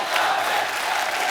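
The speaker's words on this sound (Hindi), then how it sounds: "जोरदार तालियां।" A studio audience at a Hindi TV comedy show claps and cheers, making a dense, continuous roar of hands and crowd noise at full volume throughout.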